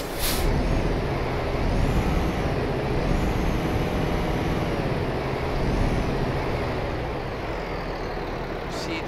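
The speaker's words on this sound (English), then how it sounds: "in the Volvo FH 2012 model, and as you can hear, the engine sound is different" A Volvo FH 2012 truck engine in Euro Truck Simulator 2 drones steadily throughout, a continuous low rumble with a sharp air-brake hiss near the start and another at the end.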